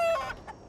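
A short burst of chicken clucking, loud and close, over in under a second.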